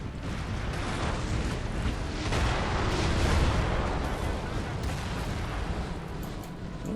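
Artillery fire in the Napoleonic-era strategy game Napoleon: Total War, with massed cannon booming in an unbroken rolling roar, distant blasts overlapping into a thick rumbling wash over about seven seconds.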